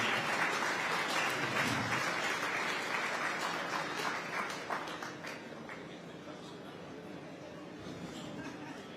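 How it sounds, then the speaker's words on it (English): Audience applause for a speaker at a nighttime-economy summit in Liverpool, a broad sustained clatter of many hands that peaks early and then thins slightly, with faint chatter beneath. "if you could give her a round of applause"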